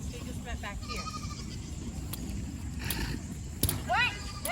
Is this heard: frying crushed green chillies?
no